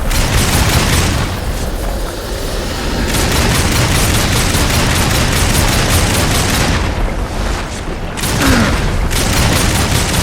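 Loud, sustained shooting in Darksiders Warmastered Edition pounds along as a dense stream of booming reports, easing briefly in a couple of spots before surging back.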